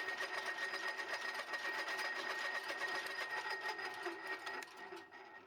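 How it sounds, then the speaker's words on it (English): A lathe with an electronic leadscrew runs in reverse with the half nuts engaged, giving a steady whirring mechanical hum with a faint whine. It fades slightly near the end, and no one speaks. "here's an example of the half nuts engaged. We reverse the lathe."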